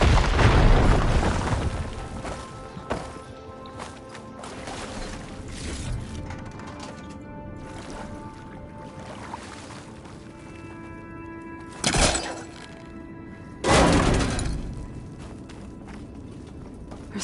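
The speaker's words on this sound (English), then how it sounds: "Should be able to blow up that fire gleam." Fire gleam blown up in Horizon Forbidden West: a loud blast at the start rumbles and fades, followed by mechanical clanks, footsteps and two more sharp bursts later, with no talking.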